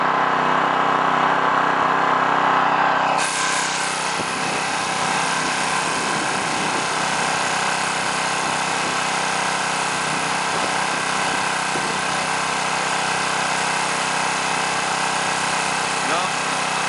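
A Predator 212cc Honda-clone small engine idles on partial choke with a steady, buzzy drone close by, its pitch slightly unsettled after an early change in tone.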